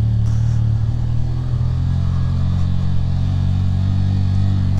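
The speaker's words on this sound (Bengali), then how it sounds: "full engine brake," Motorcycle engine braking in first gear down a steep, rough off-road descent near Dhotrey in North Bengal, a loud, steady low engine drone heard close and continuous, with no speech.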